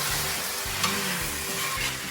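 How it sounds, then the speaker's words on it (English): Pre-made Mongolian beef sauce is stirred in a hot pan and bubbles with a dense, continuous sizzle. Soft, rhythmic scrapes of the utensil sound close by. "you want to stir that sauce that you pre-made in the pan"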